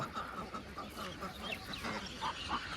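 A flock of ducks feeding at a big duck farm, their scattered soft calls rising faintly out of a steady, busy background murmur.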